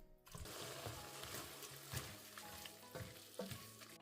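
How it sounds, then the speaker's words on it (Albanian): Chicken fillets fry in a pan with chopped vegetables, giving a steady close sizzle broken by a few louder stirring scrapes and spits. "Vazhdojmë tani që t'i fërgojmë edhe për 3-4 minuta tjera, derisa edhe filetet e pules të fillojnë që të skuqen."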